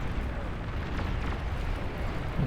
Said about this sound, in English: that was, yeah, some unfortunate explosion in the canyon